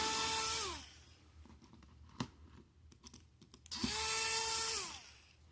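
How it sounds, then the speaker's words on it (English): An electric screwdriver backs screws out of the motherboard of an Enoze 1:43 scale RC car. Two loud whirring bursts open and close the clip, ramping in pitch, with light clicks and taps between them. "So I'm going to take each screw out."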